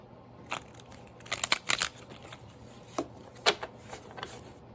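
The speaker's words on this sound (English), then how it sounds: "I'm going to shuffle." Tarot cards are shuffled by hand, a soft riffling and slapping in quick bursts, close and fairly quiet, with brief pauses between rounds.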